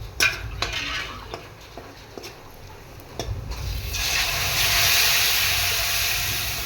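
Cumin, garlic, crushed coconut, curry leaves, asafoetida and turmeric tempered in hot oil for dal, starting with a few light clinks and stirring, then swelling into a steady, loud sizzling hiss in the second half.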